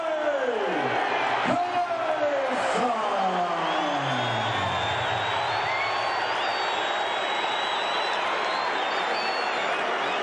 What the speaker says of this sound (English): I want to tell you, this crowd is ready for it.